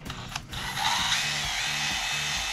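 A car headlight lens is sanded with 800 grit sandpaper, heard as a steady, close abrasive whir with a faint repeating low hum underneath, continuous and fairly loud without speech.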